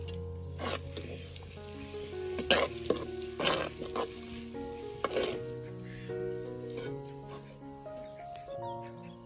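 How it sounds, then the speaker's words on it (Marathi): Coconut, ginger and garlic paste sautés in hot oil over a village cooking fire, giving a soft sizzle broken by scraping stirs, while a voice talks intermittently over it. "खोबरं, अद्रक आणि आल्याची पेस्ट आपल्याला परतून घ्यायची छानपैकी"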